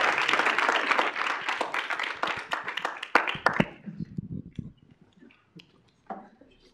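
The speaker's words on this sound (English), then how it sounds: "can we give our new senators a round of applause?" A burst of audience applause at a student senate meeting, dense clapping from many hands that fades out over a few seconds into scattered claps.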